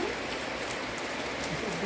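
Steady, dense rain pours down during a November thunderstorm, a continuous hiss of drops hitting surfaces close by with no pauses or voices.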